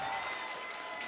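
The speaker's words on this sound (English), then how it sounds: "the crowd is getting hyped" Crowd at a Tekken fighting game tournament, the 2022 TWT Masters at Rev Major, cheering and applauding in a steady, fairly faint wash of noise.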